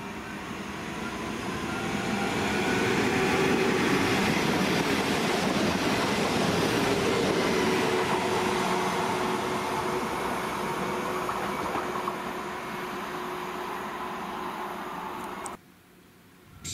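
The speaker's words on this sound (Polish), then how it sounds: "Ze stacji rusza Elf linii S5." An Elf electric multiple unit train on line S5 pulls away from a station with a steady rolling rumble that swells, holds for several seconds, then fades and drops off sharply near the end.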